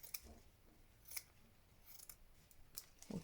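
Scissors cut through linen fabric in a quiet room, a handful of separate crisp snips spaced irregularly, faint and close, alone without any talking.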